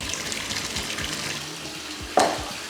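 Water runs steadily from a tap into a bath, a continuous splashing hiss with a brief louder surge near the end.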